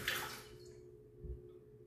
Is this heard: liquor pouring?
yes